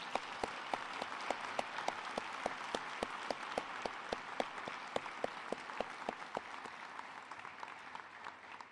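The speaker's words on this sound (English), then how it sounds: "I'd like to once again ask for a round of applause" Round of applause from the audience at a medical school White Coat Ceremony, a steady crowd wash punctuated by a regular series of sharp, prominent individual claps that fade slightly toward the end.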